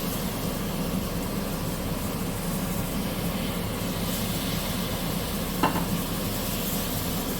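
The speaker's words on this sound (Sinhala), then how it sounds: "තක්කාලි ටිකක් හොඳට මේක බැදෙන්න දීලා" Tomatoes for chicken curry fry in a pan with spices, a loud, continuous sizzle with a faint stirring scrape. One sharp clink sounds near the end and no one speaks.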